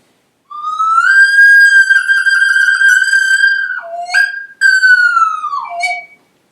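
A breathy, whistle-like tone from a recorder head joint played alone slides upward and holds, then drops in pitch through several sweeping glides, loud and close with no other sounds.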